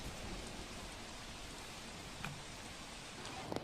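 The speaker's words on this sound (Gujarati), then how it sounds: "ફરી એક વખત વરસાદ અત્યારે સુરતમાં પડી રહ્યો છે" Steady, dense monsoon rain in Surat hisses continuously, faint and distant, with a couple of brief sharper drips near the end.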